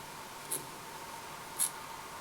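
Two quick, crisp scissor snips cut fly-tying wing material, separated by about a second, sharp and close against a quiet room hum.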